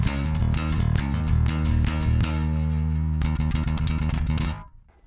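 Electric bass played through a Lusithand Ground and Pound MKII pedal with the distortion set low: a steady run of loud, rhythmic picked notes with a slight edge, stopping abruptly near the end.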